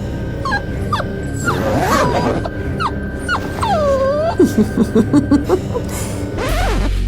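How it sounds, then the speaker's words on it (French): A small dog whimpers with high, wavering whines, then lets out a quick run of short yips near the end. It is close and fairly loud. "Viens par ici, petit chien, viens ici."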